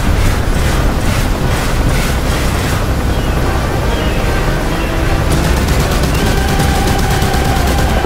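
Massed gunfire from armoured and infantry units in the DCS 2.5 combat simulator during a jungle seek-and-destroy mission: loud, continuous machine-gun fire with heavy booming blasts layered over it, close and relentless for the whole stretch.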